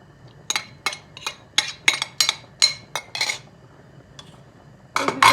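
Egg, flour and yogurt whisked together in a bowl, making a run of sharp rhythmic clinks of utensil against dish, about a dozen close strokes, a short pause, then a faster burst of whisking, with no talking.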